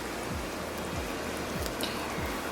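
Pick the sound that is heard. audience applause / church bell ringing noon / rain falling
rain falling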